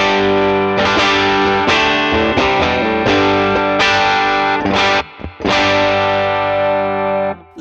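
Electric guitar through AmpliTube 5 AD30 and tweed amp models with reverb, loud overdriven chords struck in a steady strummed rhythm, briefly stopping near the end before ringing out again.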